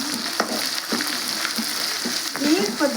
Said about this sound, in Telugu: అల్లం వెల్లుల్లి పేస్ట్ కూడా బాగా ఫ్రై అయింది, పచ్చివాసన ఎక్కుపోయింది